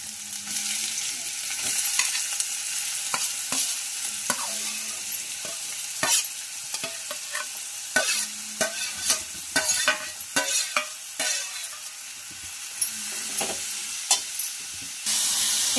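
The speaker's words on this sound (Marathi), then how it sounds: "ह्या भाज्या आपण फ्राय करून घेणार आहोत।" Chopped capsicum, carrot, tomato and cabbage fry in a pan, hissing steadily while a spatula clacks and scrapes in irregular bursts, close and loud, with no talking.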